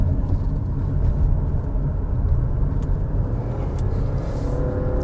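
A 2025 Subaru Forester Hybrid taking a tight turn, heard from inside the cabin as a steady low road and engine rumble with tire noise, even and continuous, no talk.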